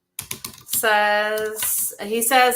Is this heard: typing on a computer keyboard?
yes